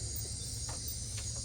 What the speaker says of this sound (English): most of the noises that you can hear are mainly katydids,